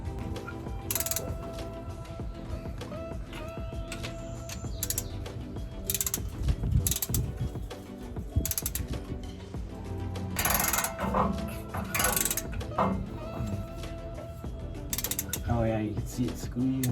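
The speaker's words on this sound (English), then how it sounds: "We torque them to 30 foot-pounds and we will just go around the differential and torque all of those down." Ratcheting clicks from a torque wrench tightening the differential cover bolts on a Ford F-150 rear electronic locking differential, worked around the cover in a cross pattern; repeated mechanical clicks and bursts close by, with no one talking.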